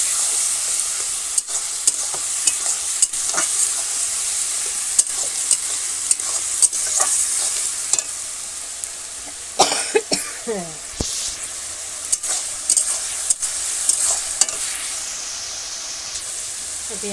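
Garlic and onions fry together in a village kitchen: a continuous near sizzle with regular spatula scrapes and knocks against the pan, and a short voice heard midway.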